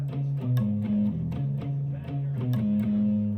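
Palm-muted electric guitar riff, played alone as short, chunky, damped low notes in a choppy rhythm with quick pitch shifts and a lightly distorted tone.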